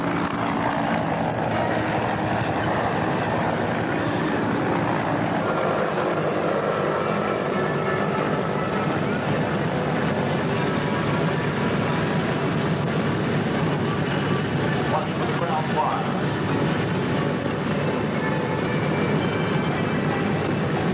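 Several Huey helicopters at an air show accelerate away toward top speed, a loud, continuous rotor and turbine roar that holds steady throughout with no voices.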